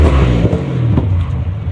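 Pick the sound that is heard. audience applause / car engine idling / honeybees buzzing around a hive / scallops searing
car engine idling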